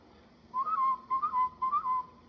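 A person whistles a signal by mouth in three short, clear bursts, each a rising-and-falling phrase, close and alone with no talk.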